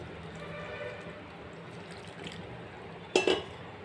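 Water is poured into bobbatlu dough in a short splashing burst near the end, after a quiet stretch of faint kitchen background noise.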